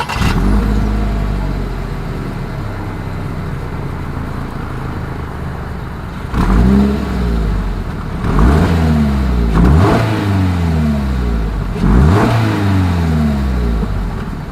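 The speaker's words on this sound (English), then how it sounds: "As always, here is that exhaust clip." A Toyota GR86 sports car with dual exhaust idles loudly close by, then three times revs up and falls back, its engine note climbing and dropping in sweeping bursts.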